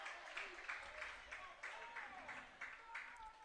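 Baseball crowd at a ballpark by Lake Olmsted in an Augusta vs. Lynn game, a steady roar of cheering fans with scattered clapping bursts throughout.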